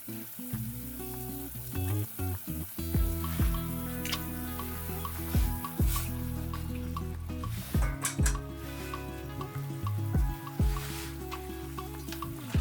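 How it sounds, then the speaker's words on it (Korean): Sugar, ground nutmeg and bay leaves simmering gently in a pan, a steady bubbling sizzle with occasional clinks of a utensil against the pan, close and continuous with no talk. "그리고 설탕과 넛맥가루, 월계수 잎을 넣고 가볍게 끓여줍니다."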